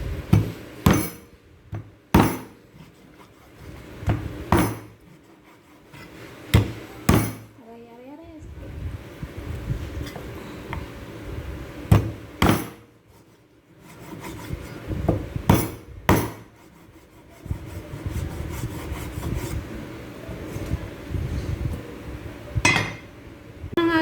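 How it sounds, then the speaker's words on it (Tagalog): Pork belly (liempo) being chopped with a knife on a cutting board: sharp, irregular thuds and knocks spaced a few seconds apart, close and fairly loud, over a low murmuring background. "tapos na natin hiwain yung ating liempo"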